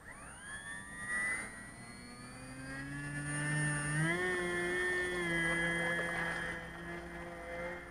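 Piper Cub light aircraft engine taxiing, a steady droning tone with a whining harmonic that rises slightly midway and holds, moderately loud and without speech.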